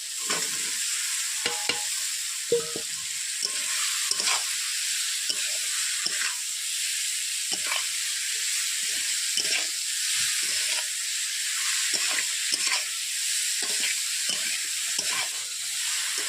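Mixed vegetables for shukto sizzle steadily in a hot pan while being sautéed, a constant frying hiss broken by repeated scraping stirs of a spoon, with no speech.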